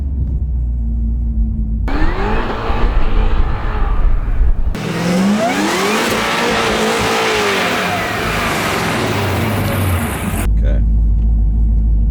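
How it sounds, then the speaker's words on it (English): A Cadillac CTS-V3 making 1100 wheel horsepower roars and revs hard, pitch climbing as it accelerates, loud and close, with rumbling idle at the start and end. "you hit the gas and it's just absolute race car"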